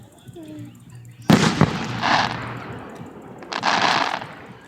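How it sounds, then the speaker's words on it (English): Fourth of July fireworks burst overhead in a few sharp, loud bangs, each followed by crackling, as people talk and cheer nearby. "This is fireworks and 4th of July."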